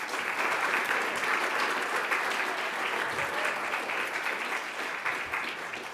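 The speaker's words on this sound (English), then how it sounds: "How about just one last round of applause for all of our speakers, presenters and panellists" Sustained applause from a symposium audience for the speakers, presenters and panellists, a dense, even wash of many clapping hands that holds steady throughout at moderate loudness with no voices over it.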